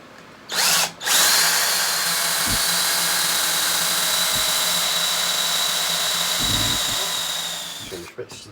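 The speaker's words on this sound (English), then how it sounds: "Then I'm taking the drill and" A power drill bores a pilot hole into a metal plate, its steady high whine running for about seven seconds after a couple of short starts, then winding down at the end.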